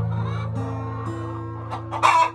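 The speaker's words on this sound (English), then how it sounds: "Is that chickens?" Chickens cluck loudly and close by, a few overlapping calls in quick succession, rising to a sharper squawk at the end.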